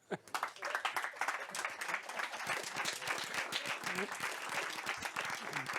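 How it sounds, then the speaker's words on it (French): An audience at a French-language talk on artificial intelligence applauds, dense, sustained clapping from a crowd of listeners that starts quickly and stays steady without fading. "Et je vais demander de vous applaudir."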